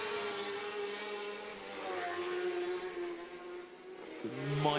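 A racing motorcycle engine held in second gear at high revs holds a steady whining note, fading slightly then rising again near the end, heard from a distance with no talking, during qualifying at the Macau Grand Prix motorcycle race.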